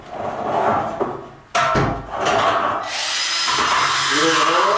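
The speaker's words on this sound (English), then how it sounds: "Drill the hole." A power drill whirs loudly as it bores a hole for a satellite dish installation, with a short pause and then a steady sustained drilling; a voice speaks briefly alongside.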